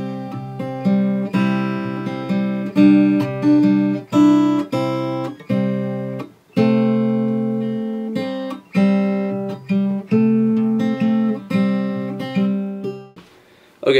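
Acoustic guitar plays the intro of a song slowly, with close, clear picked and strummed chords in a halting rhythm and brief pauses between phrases.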